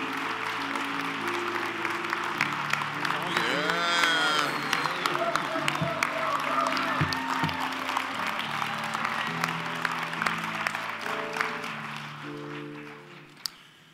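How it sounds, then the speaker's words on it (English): A standing ovation at a sports hall of fame induction ceremony: steady sustained applause with some crowd noise under a continuous musical backdrop. The clapping holds throughout and tapers slightly near the end. "Thank you for that applause."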